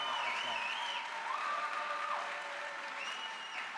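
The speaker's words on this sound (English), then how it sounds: "Can we please get another round of applause for our speakers?" An audience applauds the speakers after a discussion event, steady and dense, with voices and higher tonal calls rising above it.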